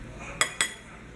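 Two quick metallic clinks of a utensil against a bowl while cheese, butter and garlic are being mixed, crisp and close amid a quiet background.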